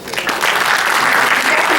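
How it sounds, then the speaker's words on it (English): Audience applause at a Detroit China Day event after a senator is thanked, loud and sustained dense clapping from a crowd that swells quickly after a brief start and holds steady. "Another round of applause."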